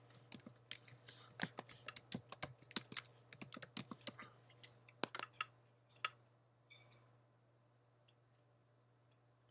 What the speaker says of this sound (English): And then we're going to type Quick GIF.